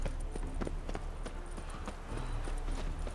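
Roach, the horse in The Witcher 3, clip-clops with steady hoofbeats on the game's ground, a close repeating rhythm over a low ambient bed.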